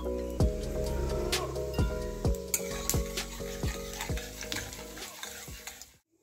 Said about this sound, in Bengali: আমি দুটো শুকনো লঙ্কা, 5 ফোড়ন নিয়েছি ফোড়ন দেওয়ার জন্য। ফোড়নটা দিয়ে দিলাম।